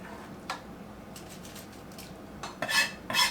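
Metal utensil scraping a beef casserole meat mixture into a nonstick pan, giving a few short clinks and scrapes near the end, with one earlier tap, close and fairly quiet.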